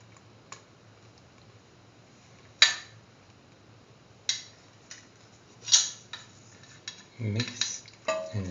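A spoon stirs carrot vermicelli pasta soup topped with cashews and raisins in a pot, giving a few sharp metallic clinks and scrapes spaced apart over a quiet hum.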